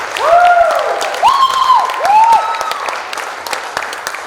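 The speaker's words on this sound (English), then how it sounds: "Taylor Capozzo, let's hear a round of applause." A pageant audience at the Miss Armada contest greets a contestant with loud, close applause, topped by several sharp rising whistles and cheers in the first half before the clapping settles and thins.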